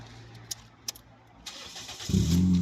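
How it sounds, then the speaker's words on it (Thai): A 2008 Toyota Yaris automatic cranks and fires up near the end, a loud low rumble settling toward idle after a quiet stretch with a few faint clicks. "เดี๋ยวฟังเสียงเครื่องกันเลยดีกว่า"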